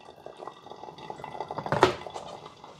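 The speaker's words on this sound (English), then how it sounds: "So just run a little bit of water through it." Hot water drips and trickles through a plastic Hario V60 size 03 pour-over coffee dripper with a paper filter into a mug, soft irregular drips building to a brief splashy burst near the end, quiet and close.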